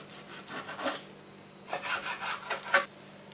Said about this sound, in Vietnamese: Rồi sau đó mình sẽ cắt mỏng mỏng ra.